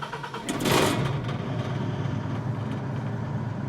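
A disaster relief generator engine starts on its low speed setting, a sharp cranking burst that settles into a steady, moderately loud idling drone.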